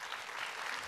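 Brief burst of dense clapping from an audience at the opening ceremony of a Korean film festival, steady and crowd-wide for under a second.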